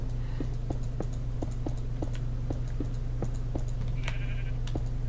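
Sheep bleat repeatedly in a jungle survival video game, short regular calls over a steady droning game background, fairly close and clear with no talk.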